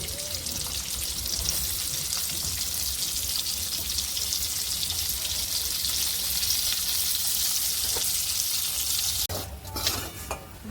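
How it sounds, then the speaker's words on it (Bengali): Pieces of egg frying in oil in a wok, the same oil used earlier for potatoes; a steady, close, loud sizzle with occasional stirring, and a brief clatter near the end. "ওই তেলেতে এবারে ডিমের পিসগুলো ভেজে নেব।"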